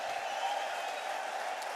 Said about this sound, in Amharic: ጭብጨባ ምስጋና ለጌታ ታመጣል